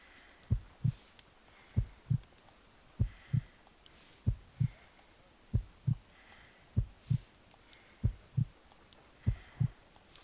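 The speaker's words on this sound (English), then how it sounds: "I need to concentrate and count the heartbeats." Slow, weak heartbeat in the Sherlock Holmes Crimes and Punishments video game, paired lub-dub thuds repeating about once a second, soft and clear over a quiet background.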